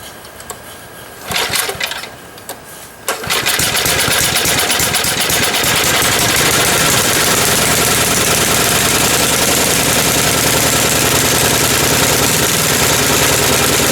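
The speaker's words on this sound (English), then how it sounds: "we did this snowblower, which I'm going to start for you right now" A Simplicity snowblower's small engine turns over briefly, then catches and settles into a loud, steady, rapid-firing run that holds without a break, no voices present.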